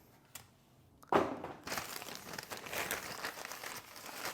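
A thin plastic bag crinkles and crunches close up, a sharp rustle followed by several seconds of continuous papery crackling as it is handled.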